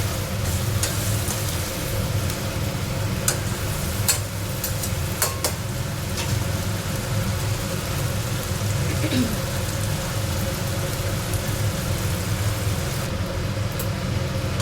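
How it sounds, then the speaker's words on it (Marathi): Masala sizzles and fries steadily in a pan for bitter gourd (karela) gravy, a continuous crackling hiss with scattered sharp pops, close and even throughout. "त्यापर्यंत आपण ह्याला मस्त फ्राय करून घेऊया"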